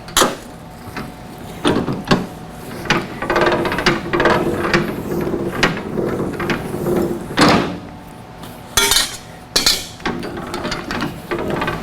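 A 4-inch-wide, 1/8-inch cold-rolled steel strip being bent by hand in a metal shop, giving repeated sharp metallic clanks and knocks over a steady mechanical rumble, with louder isolated bangs toward the end.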